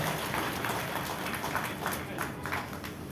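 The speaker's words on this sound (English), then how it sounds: "ladies and gentlemen, let's give a big round of applause." An audience at a political felicitation event claps steadily in a sustained round of applause, a dense patter of many hands throughout, with some voices mixed in underneath.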